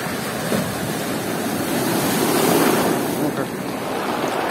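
Sea waves break and wash continuously on a rocky shore at a bay beneath mountain forest, a loud steady surf roar with some wind buffeting the microphone.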